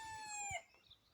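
A Pekin Millefleur bantam rooster crows once, a bright, drawn-out call that falls off at the end, followed by a few soft low clucks close by.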